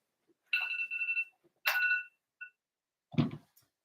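An electronic phone ringtone chirps in two short bursts, followed by a faint blip and a brief muffled knock; otherwise quiet.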